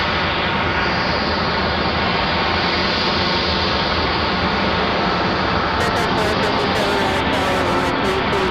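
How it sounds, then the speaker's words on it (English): A Delta airliner departs Raleigh-Durham International Airport, its engines producing a loud, steady broadband roar that holds throughout, with a faint voice speaking underneath. "Got a Delta departure."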